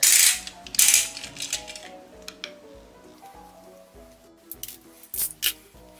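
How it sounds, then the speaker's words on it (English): Silicone tube being opened for sculpting a mermaid tail fluke: a string of sharp clicks, snips and rustling handling noises close by, some bursts of hissy crackle, with no talking. "So we're just gonna start by opening our silicone."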